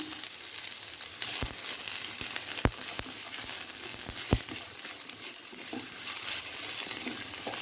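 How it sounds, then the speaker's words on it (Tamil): Chopped onions sautéing in hot oil in a pan for masala Yippee noodles, a close, continuous sizzle broken by a few sharp knocks of a spoon against the pan. "எண்ணெய் காஞ்சதும் நம்ம கட் பண்ணி வச்சிருக்கிற வெங்காயத்தை போட்டு வதக்கிடலாம்."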